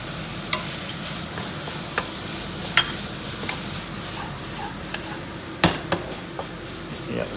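Cornstarch mixture stirred into sizzling lettuce wrap filling in a hot pan, with a continuous fry hiss and scattered spoon scrapes and clicks against the pan, close and steady.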